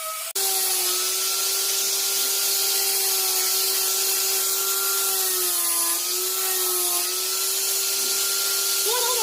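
A steady, high-pitched whine of a power sander runs continuously and close, with a gritty hiss of abrasion against hard epoxy and pine wood chess pieces.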